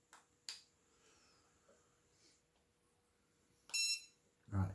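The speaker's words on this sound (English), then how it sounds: "Press and hold the light button for 2 to 3 seconds until it is beeping and flashing" A Boatman Actor MK4i baitboat, with its light button held down, gives a short burst of high electronic beeping. Quiet clicks and handling noise come before it, and a soft thump follows.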